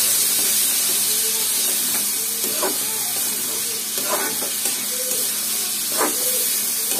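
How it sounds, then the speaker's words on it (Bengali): Bean seeds, potatoes and dried lotte fish sauté in a hot pan with a steady close sizzle and hiss, broken by the repeated scrape of a spatula stirring the mix. "দেখো, খুব সুন্দরভাবে কষায় নিচ্ছি"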